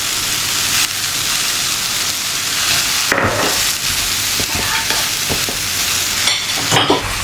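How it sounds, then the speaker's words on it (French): Apples cooking in a pan with a spoonful of sugar added, a steady close sizzle under repeated spoon stirring and scraping, with no talking. "Pour finir la cuisson, on rajoute notre cuillère à café de sucre."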